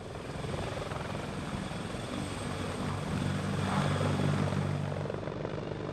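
A Sikorsky CH-53K heavy-lift military helicopter thrums with steady rotor and engine noise, a continuous loud drone that swells slightly midway and has no voices over it.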